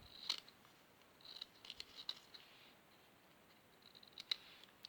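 Scissors snipping a paper card for an art journal, a few quiet, crisp cuts spaced irregularly and close by in an otherwise hushed room.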